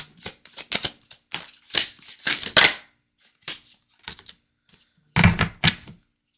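Tarot cards being shuffled and drawn, producing quick bursts of crisp riffling and flicking clatter separated by short pauses, close and alone without talk.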